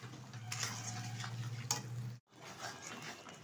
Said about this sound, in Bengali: এবার সবগুলো উপকরণ একসাথে সুন্দরভাবে মিশিয়ে নেব